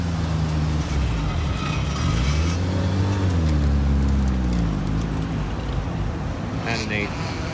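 Mazda RX-7 rotary cars rolling out of a car meet at Daikoku PA, a loud engine drone rising and falling in pitch as they pass nearby, with crowd voices and traffic noise around.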